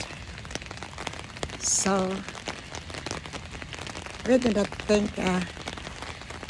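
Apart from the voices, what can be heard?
rain falling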